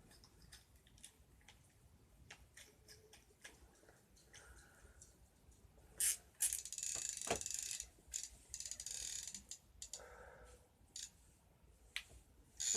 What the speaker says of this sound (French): récupérer le fil de notre moulinet